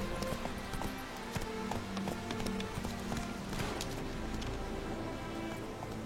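Horse hooves clip-clop steadily at a trot in a video game, a fairly close, continuous rhythmic clatter over ambient game sound.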